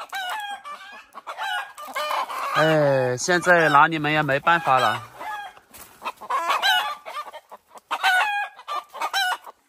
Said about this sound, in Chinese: 鸡舍的鸡下了，无论是公鸡母鸡啊，都是这种叫声。